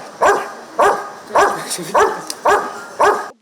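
A five-year-old German shepherd border service dog barks six times in a steady, evenly spaced rhythm, each bark loud and close with short gaps between.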